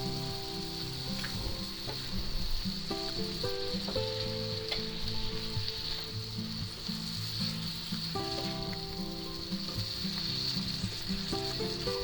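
Onions and mushrooms sautéing in a pan give a steady, close sizzle and crackle, with occasional light clinks of stirring running through the whole stretch.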